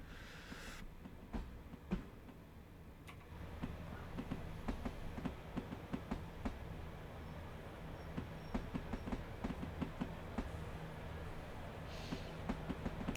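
A train in Train Sim World 2 running on the East Coastway line near Brighton and Hove: a loud, continuous cab rumble with regular clickety-clack wheel beats spaced through it.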